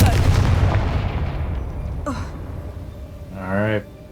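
The Confringo fire spell is cast in the Hogwarts Legacy video game as a loud, sudden blast that fades over about two seconds, followed later by a short breathy vocal gasp.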